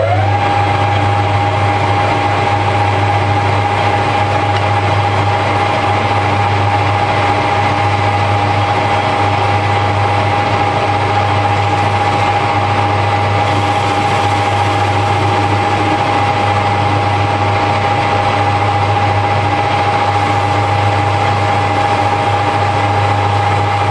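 A metal lathe facing off a part for a Morini rocker bush tool runs with a steady, loud motor hum and a constant high whine, unbroken for the full stretch, with no talking.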